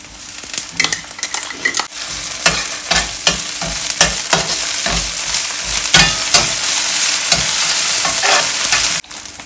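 Onions browning in a pan for a lobster curry, a steady close sizzle broken by frequent spoon scrapes and clinks against the metal, with no voices.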